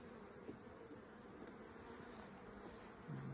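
Honey bees humming softly in an opened beehive, a faint steady buzz with a slightly louder drone near the end.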